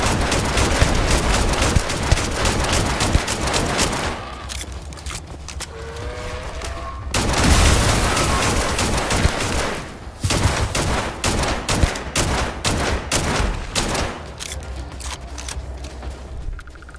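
Rapid bursts of gunfire from a pistol in the video game Starfield, loud and dense throughout, with brief lulls between volleys and a busy game soundtrack underneath.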